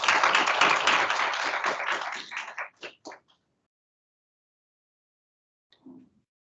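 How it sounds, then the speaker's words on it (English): A warm round of applause at a university staff senate meeting: a room full of clapping for about three seconds, thinning to a few last claps, then silence and a brief soft sound near the end. "Let's give him a warm round of applause."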